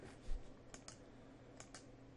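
Four quick, light keystrokes on a computer keypad, used to enter values in Blender, land in two close pairs against a quiet room hum.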